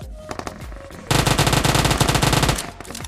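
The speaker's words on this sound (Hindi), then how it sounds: "इसके बाद लेफ्ट साइड से बहुत ज़्यादा फायरिंग साउंड आ रहा था" Rapid automatic gunfire in a mobile shooter game, a sustained loud burst of rhythmic shots after a few scattered single shots, with no voices.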